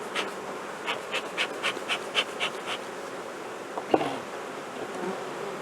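Honey bee colony buzzing during a hive inspection on an overcast day, a steady close insect hum with brief rising buzzes of bees flying past, plus one sharp click near the end.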